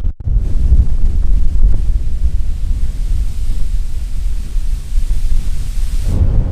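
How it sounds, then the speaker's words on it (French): Strong headwind buffeting a microphone while riding a Gotway Monster electric unicycle, a loud low rumbling roar that gusts continuously for several seconds. "Un vent de fou, mais de face"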